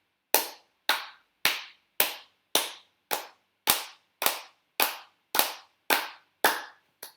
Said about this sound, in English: So now imagine she's going to clap, and I'm going to try to match her perfectly